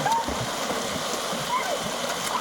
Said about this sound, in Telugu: ముగ్గురు పైన కూడా నీళ్ళు కొట్టేస్తుంది